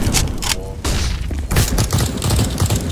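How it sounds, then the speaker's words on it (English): A flashbang grenade goes off in a tactical shooter round after the bomb is planted, a sharp loud burst followed by gunfire-like bangs and thumps amid busy game noise, with players talking over the action. "Flashbang."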